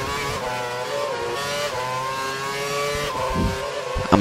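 Loud racing car engine from the F1 2012 video game, revving continuously with shifting pitch throughout and a brief tire-squeal edge near the end.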